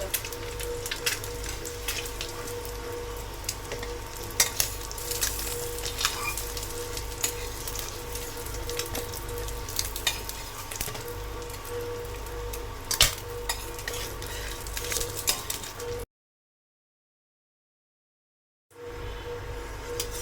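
Food fries in oil for an egg curry, a steady close sizzle with sparse crackles, cutting to about three seconds of silence before the frying resumes briefly.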